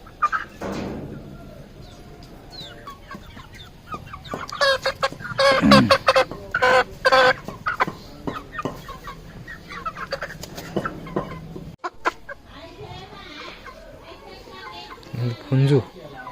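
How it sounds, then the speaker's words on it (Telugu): A rooster crows in a village on an early winter morning, with loud clucking bursts in the middle and near the end, while people talk nearby. "పుంజు"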